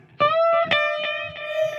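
Clean electric guitar notes ring out in a few separate plucks through a DiMarzio Satch Track neck pickup, bright and sustained with clear harmonics and no distortion, played alone.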